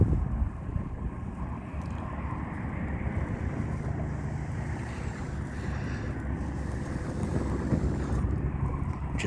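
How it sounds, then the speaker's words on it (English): Wind gusting outdoors, a steady rushing roar with buffeting on the microphone, constant and fairly loud throughout with no talk. "Yep, there goes the wind."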